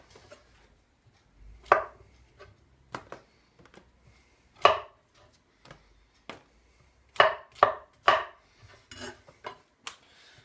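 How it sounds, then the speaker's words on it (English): A knife chops mushrooms for beef en croute on a cutting board, about a dozen sharp, irregular strokes at close range, some in quick pairs, with quiet pauses between. "with the mushrooms, you know, just randomly cut them up and throw them in with your onions"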